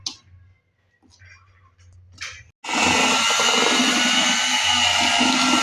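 An electric blender whirs loudly and steadily, mixing cake batter with baking powder for a soft cake, starting abruptly after a few quiet clicks and handling noises.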